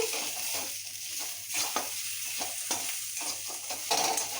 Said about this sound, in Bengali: এবার সব মশলাটা ভালো করে ভেজে নিয়ে